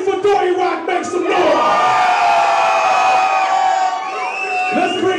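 A concert crowd at Harlows cheers, whoops and shouts loudly and continuously, a dense wall of voices swelling near and full, with scattered high yells rising above the roar.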